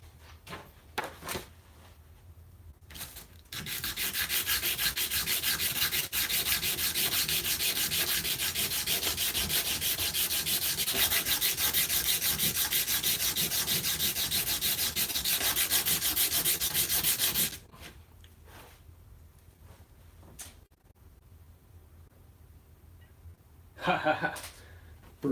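Sandpaper rubs steadily on a BC Rich Mockingbird guitar in a long, even scraping stretch, with brief talk and a chuckle before and after.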